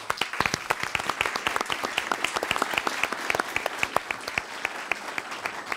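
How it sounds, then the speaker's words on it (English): Steady applause from an audience at a city commission candidates forum in a library, many hands clapping densely and continuously at moderate loudness, with no voices over it. "Let's have a round of applause for all our candidates tonight."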